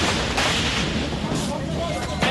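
Gunfire crackles during a police shootout on a street, dense loud bursts of shots and rumbling blasts running continuously with voices mixed in.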